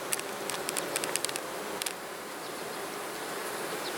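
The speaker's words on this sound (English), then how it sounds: "Look at this bee." Buzzing honeybees at a calm beehive, a close steady drone with brief louder passes of individual bees near the microphone early on, no voices.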